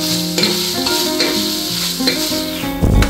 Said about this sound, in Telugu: అల్లం వెల్లుల్లి పేస్ట్ పచ్చి స్మెల్ పోయే వరకు ఆయిల్లో ఫ్రై చేసుకుందాము